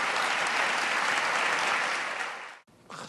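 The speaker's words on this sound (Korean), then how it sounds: "감격해서 막 저렇게 일어나 박수하고 영광 돌리고" A large church revival congregation bursts into sustained, loud applause, then the clapping cuts off abruptly near the end.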